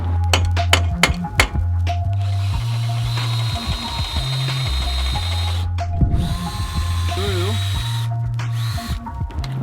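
A power drill whines in repeated bursts, its pitch rising and falling as it bores through a steel bracket during a Toyota Tacoma suspension lift install, with clinks and handling noises between runs.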